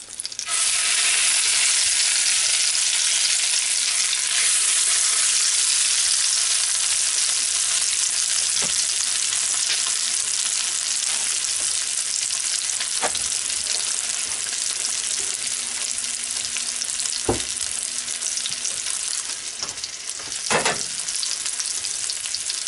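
A Monte Cristo sandwich, egg-soaked bread cooked like French toast, sizzles steadily in a pan, a loud continuous fry with a few soft clicks and scrapes of utensils, no voices.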